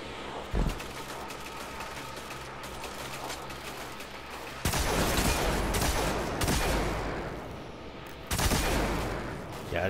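Video game gunfight inside a prison in Destiny 2: bursts of rapid automatic fire and loud shots, sparse at first and then heavy and sustained, with mechanical clatter between volleys.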